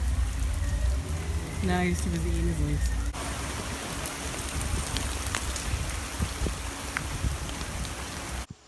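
Steady rain pours down at Animal Kingdom, a dense even hiss of drops on surfaces throughout, with people talking briefly over it.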